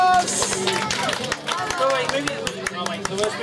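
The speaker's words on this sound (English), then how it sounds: "Give her a big round of applause!" Audience clapping and cheering at a live magic and puppet show after a linking rings trick, busy claps mixed with excited voices and crowd chatter.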